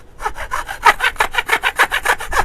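A hand saw making a cross cut through long wood stock, a close, steady rhythm of about a dozen rasping strokes back and forth with no talk.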